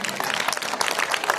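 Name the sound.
applause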